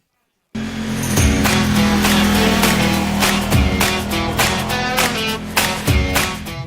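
A Moto Guzzi Stelvio motorcycle rides along mountain roads in Spain, with a loud, steady engine drone and heavy wind rush throughout, broken by a few shifts in engine pitch.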